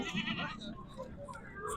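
Goat bleating at a crowded livestock market near Hyderabad, one short bleat heard amid busy crowd noise and nearby voices.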